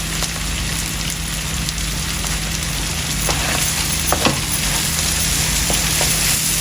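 Spice paste frying in a pan with shrimp and onion gives a loud, continuous crackling sizzle, with scattered sharper pops and spits throughout. No talking is heard.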